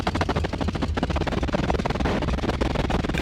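Malfunctioning train wagons in the Soviet-era city-building game Workers & Resources: Soviet Republic give off a dense, continuous rattling, grinding noise that stays loud and steady throughout, with no talk.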